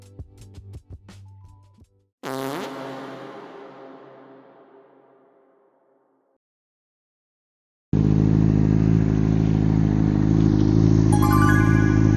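A few clanks and knocks, then a Honda CBR600RR motorcycle engine fires and revs before fading to silence, followed by a loud, steady engine idle running close by.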